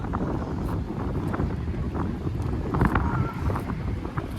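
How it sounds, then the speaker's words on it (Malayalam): Strong wind buffets the microphone outdoors at a rocky spot in Attapadi in a constant, rough roar, with faint clicks and knocks scattered through it. "നല്ല കാറ്റുണ്ട്."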